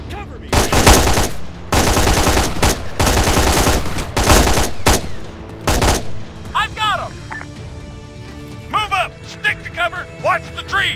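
Bursts of rapid automatic machine gun fire in the Arma III military shooter, loud and close, rattling in several long volleys before giving way to shouted voices amid scattered distant shots.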